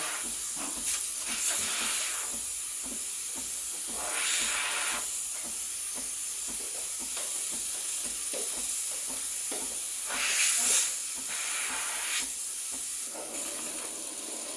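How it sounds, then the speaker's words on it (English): The steam wand of a Breville Barista Express BES870 espresso machine steams milk at full pressure, giving a steady loud hiss for about fifteen seconds with rhythmic gurgling surges and ticks as the milk is stretched. "You just have to learn the technique of steaming the milk."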